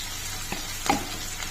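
Okra and tomato frying in a pan for a ladies-finger curry, with a faint steady sizzle and a couple of soft stirring scrapes, and no talk.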